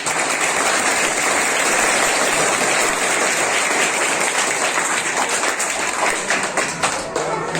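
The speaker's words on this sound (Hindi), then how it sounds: "हमारे मिडिल स्कूल के शिक्षकों के लिए एक जोरदार ताली से इनका स्वागत किया जाए" A school audience at an Ambedkar Jayanti celebration breaks into loud, dense applause for the middle school teachers, a continuous roar of clapping that thins into scattered claps near the end.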